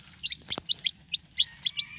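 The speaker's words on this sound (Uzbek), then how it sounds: "makkayni yeyapti jo'jalarimiz." Five-day-old chicks peeping while eating finely ground corn, a quick series of about a dozen short high chirps, close but faint, over a low background hum.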